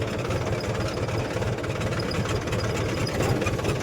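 A tractor rolls past on a rough, potholed village road, its engine giving a steady low rumble with knocking vibration that stays loud and continuous throughout, with no talking.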